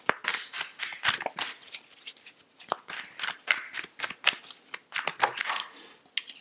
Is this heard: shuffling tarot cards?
yes